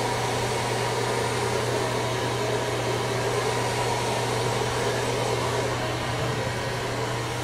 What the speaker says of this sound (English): I always like to dry the roots first, just that way I don't have to get my blow dryer really close to her scalp with the brush.